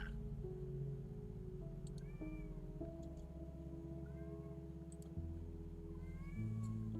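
A house cat meowing several times in short, faint calls spread over a low hum and background music.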